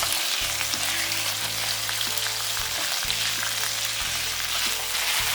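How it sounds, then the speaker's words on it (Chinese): Diced chicken breast with garlic and ginger is stir-fried in a wok, a loud, dense, continuous sizzle with scraping tosses, backed by steady music. "快速翻炒到鸡肉收紧变色"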